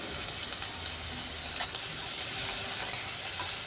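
Cut potatoes with turmeric and a pinch of salt lightly frying in mustard oil, a steady broadband sizzle close up with a few soft stirring scrapes and no voices.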